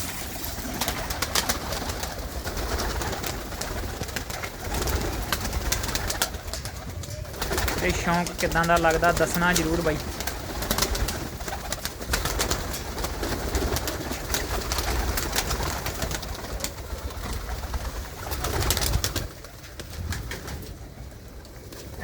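A flock of desi pigeons coos on and off throughout, low and murmuring, while someone talks over them at close range.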